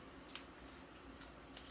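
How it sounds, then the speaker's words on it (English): Tarot cards are shuffled by hand in quick, soft riffling bursts, several brief papery flurries spaced across a quiet background, close and fairly faint. "Spirit's really been very big on the shuffling today"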